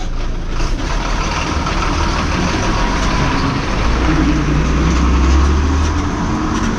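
A vehicle rumbles past on a rainy village road in Konkan, a loud continuous engine drone with a deep low hum swelling toward the end, no talking.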